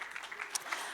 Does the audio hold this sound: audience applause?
yes